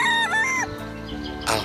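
A rooster crows once loudly and close, a wavering rising-falling call, followed by softer farmyard clucking and a brief burst of noise at the end, set in a rural hillside at dawn.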